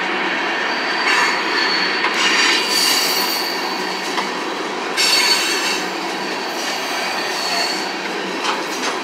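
Union Pacific freight train 6660 rolls past close by through Altamont, Illinois, with a continuous loud rumble of wheels on rail, squealing flanges and bursts of clatter throughout, and no voices.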